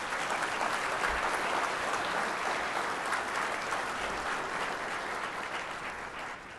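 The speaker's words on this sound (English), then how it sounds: "Let's give them another round of applause." An audience at the 2011 Outstanding Farm Bureau Youth Contest applauds the contestants on stage, producing a dense, continuous wash of clapping that holds steady and then tapers slightly at the end.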